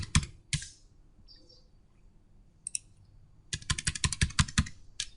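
Typing on a computer keyboard while writing a letter in Microsoft Word: a few isolated key clicks, then after a pause a quick run of crisp keystrokes, close and clear, with a faint bird chirp in the background.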